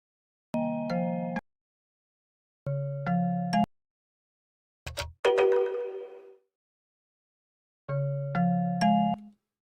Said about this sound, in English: The phone rings almost instantly, and when Andrew picks it up, it's Julia.